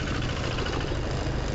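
Modified Thai farm tractor engine idling steadily nearby, a continuous low rumbling chug with an even pulse throughout and no voices over it.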